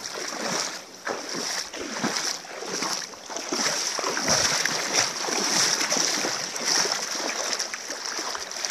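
Water splashing and sloshing continuously, close and moderately loud, with a faint voice underneath.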